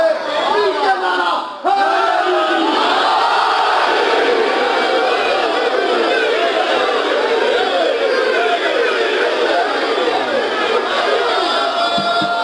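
A large religious gathering shouts a slogan back in unison, loud massed voices rising and holding in waves after a brief pause, close and dense like a roaring congregation.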